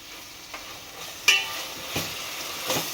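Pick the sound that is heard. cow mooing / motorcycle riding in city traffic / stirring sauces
stirring sauces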